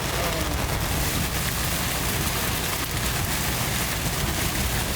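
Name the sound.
heavy rain during a safari drive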